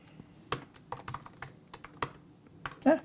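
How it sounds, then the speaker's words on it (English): Keys clacking on a computer keyboard in short, irregular bursts of taps, fairly close and clear, with no voices. "Click anywhere and start typing."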